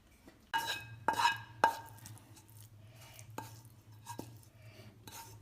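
A metal pan and spoon knock and scrape as a cooked coconut burfi mixture is tipped onto a ghee-greased plate, giving a few sharp clanks early on and then lighter taps and scrapes, with no talking.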